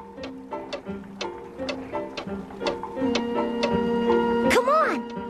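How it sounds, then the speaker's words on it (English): Regular ticking clicks repeat at a steady pace over sustained musical tones, and a voice briefly rises at the end. "Look at all those clocks!"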